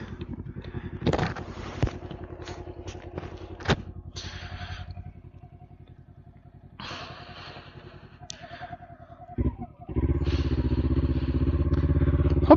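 A Kawasaki Ninja 400 motorcycle rides on the road, its engine droning steadily under wind noise with a few clicks and clatters, then revving louder near the end.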